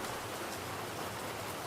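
Steady rain falling, a soft, even hiss of drops on surfaces with no pauses or voices, moderately quiet and continuous.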